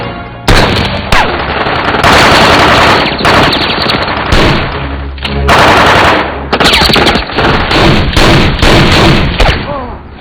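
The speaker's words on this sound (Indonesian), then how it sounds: "hingga terjadilah baku tembak saat itu juga" Film gunfight with sustained, very loud rapid automatic gunfire in dense bursts, broken by brief pauses and heavy thuds, filling the whole scene with almost no voices.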